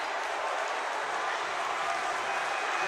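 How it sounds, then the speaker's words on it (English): Steady, loud crowd roar fills a high school boys basketball gym at Myers Park Gymnasium, a continuous broadband wash of voices and noise with no clear breaks. "The crowd is getting loud"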